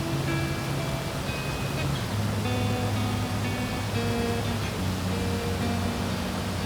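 A tall waterfall on New Zealand's South Island, heard as a constant broadband roar of falling water, loud and unbroken throughout, with faint tonal sounds layered on top.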